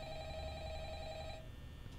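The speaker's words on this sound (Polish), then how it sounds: "Co to za telefon?" Telephone ringing inside the security office of the Five Nights at Freddy's horror game, a steady electronic ring holding for over a second before cutting off, with low game ambience underneath.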